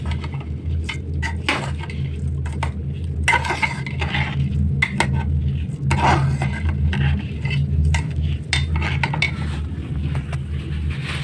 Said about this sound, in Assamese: মই চাউলটো ভাজি ল'ম